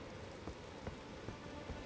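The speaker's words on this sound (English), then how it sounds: "Here comes the rain" Steady rain hisses through a video game scene in Elden Ring, a dense wash of drops with occasional soft thumps, alone and fairly faint.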